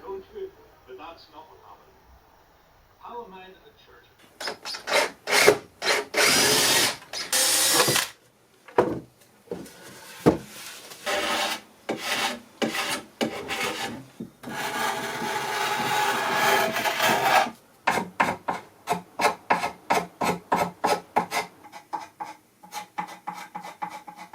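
Scraping of a wooden sculpture built from old bed slats and a table, heard as bursts of dense rasping strokes, some sustained and others in quick rhythmic passes, loud and close with brief pauses between.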